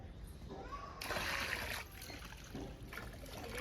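Water drawn from a village well splashes loudly for about a second as it is poured out, with gentle trickling and low voices nearby.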